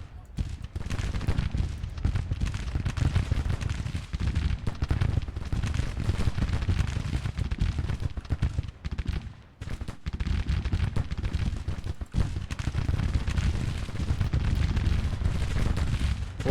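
Distant 6-inch artillery shells land in Grand Tactician's Civil War battle, a continuous crackling roar of gunfire and impacts with scattered louder thumps, under a voice.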